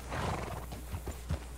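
A horse in the video game Red Dead Redemption 2 whinnies over faint clip-clopping hooves, a soft continuous game ambience underneath with a few louder hoof thuds near the end.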